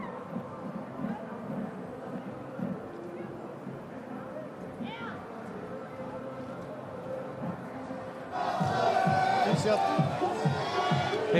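A noisy crowd of Belgian fans cheers at a cyclo-cross podium in Heusden-Zolder, Belgium. A murmuring crowd sits under a commentator's voice at first, then swells abruptly into loud, bright cheering near the end.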